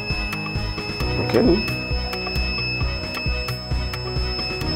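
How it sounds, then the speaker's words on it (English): A simple electronic buzzer wired to a dry cell battery in a basic circuit, giving a steady tonal buzz with repeated clicks, loud and close, with a brief spoken word partway through. "that is the sound of the buzzer converting the electrical energy into sound"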